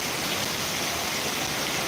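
A brief burst of pounding monsoon rain in Dantiwada taluka, loud, close and uniform, a constant roaring hiss with nothing else on top.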